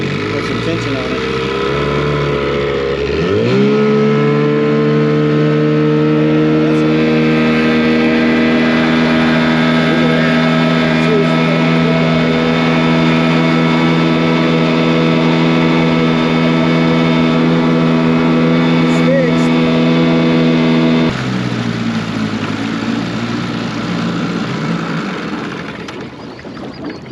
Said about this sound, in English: Let's see what it does when I put it in the gear.